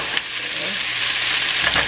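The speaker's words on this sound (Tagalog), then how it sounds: "So, igigisa lang din natin." Longganisa-flavored hotdogs sautéing in a pan, a loud close sizzle and crackle of frying that holds steady for two seconds with light stirring noises, no talk.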